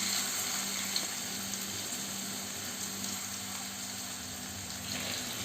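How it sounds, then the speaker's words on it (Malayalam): Fish pieces frying in oil in a pan over low to medium-low heat, a steady continuous sizzle close by and unbroken for the whole stretch, with no one speaking. "ഇപ്പോൾ മീൻ കഷ്ണങ്ങളെല്ലാം ഫ്രൈ ചെയ്യാൻ ഇട്ട് കൊടുത്തിട്ടുണ്ട്"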